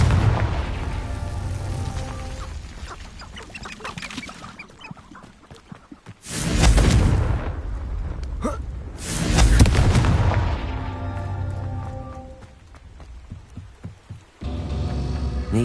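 Confringo spell explosions in Hogwarts Legacy erupt as loud, deep booms with broad rumbling blasts, two big bursts in the middle amid other clattering game sounds.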